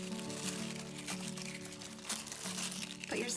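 Plastic grocery bag loops cut for plarn are handled and pulled through one another, giving close, continuous crinkling and rustling with sharper crackles throughout.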